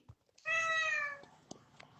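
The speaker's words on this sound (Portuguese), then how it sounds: "os gatos vão participar hoje" A cat gives one clear, drawn-out meow at close range during a home livestream, followed by faint background noise and a soft tap.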